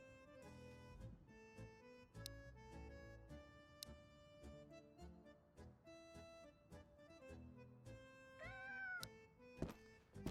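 A cat meows in the survival video game Road to Vostok, a short rising call near the end over steady game music and background sounds.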